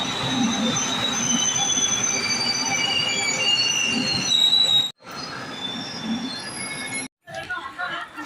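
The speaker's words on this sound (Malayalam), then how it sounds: "അടുത്ത ട്രെയിൻ വരാൻ വേണ്ടി ക്ഷമയോടെയുള്ള കാത്തിരിപ്പാണ്." Train arriving at Coimbatore Junction station, wheels squealing with high metallic screeches over a steady rolling rumble, loud and close, then breaking off into short gaps and fragments of rail noise.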